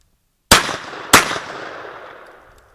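A shotgun, a Ruger Red Label, fires a double at clay targets on a skeet range: two loud, sharp blasts about half a second apart, each trailing off into a long outdoor echo.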